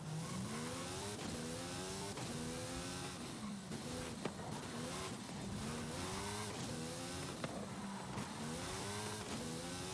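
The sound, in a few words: race car driving in Forza Horizon 5 video game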